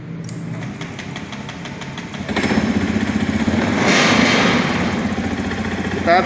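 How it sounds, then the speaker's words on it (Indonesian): A fuel-injected motorcycle engine idles steadily in a workshop during a fuel pressure check, a close, even mechanical rumble that grows a little louder partway through and holds. "Kita biarkan engine berputar stasioner beberapa saat"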